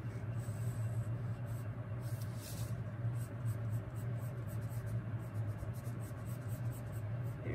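Pencil scratching steadily on paper while shading a shadow for a 3D block letter T, a close, continuous dry rasp with faint low hum underneath and no talk.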